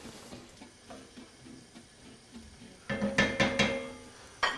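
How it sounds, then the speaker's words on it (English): Sherry vinegar hits onions and garlic cooking in a hot pan, starting as a low bubbling sizzle that swells into a louder, crackling hiss with a few sharp pops near the end, heard close up. "Now we are gonna add some vinegar, sherry vinegar. We are gonna leave to cook a little bit."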